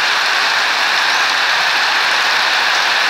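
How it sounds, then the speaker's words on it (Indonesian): Steady, dense rain pours down without a break, a loud, even hiss filling the whole stretch with no voices over it. "Saat ini hujan."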